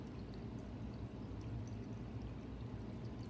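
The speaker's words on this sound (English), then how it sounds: "Listening to the water flowing." Water flowing steadily, a continuous soft rushing and pouring wash that stays even and fairly quiet throughout, with no voices over it.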